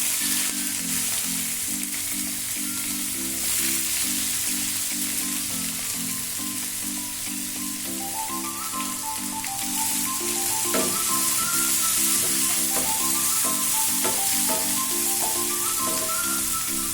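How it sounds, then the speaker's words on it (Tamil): Onions sauté in hot oil with fennel seeds, giving a constant bright sizzle with faint stirring, while a steady musical tone plays underneath. "வெங்காயம் எல்லாம் நல்லா வதங்கட்டும்."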